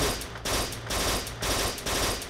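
Bursts of automatic gunfire in the shooter game Kane and Lynch 2, loud rapid volleys in repeated short strings separated by brief gaps.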